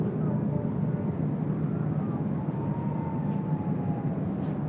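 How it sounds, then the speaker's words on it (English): A United Airlines A320 arriving at LAX on the north side, a steady broad roar of jet engines that holds at even loudness throughout, with a faint whine gliding across it. "Next arrival here on the north side, United Airlines, flight 387, coming in from Vancouver. It's an A320."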